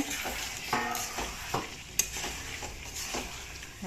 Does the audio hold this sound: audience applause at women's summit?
no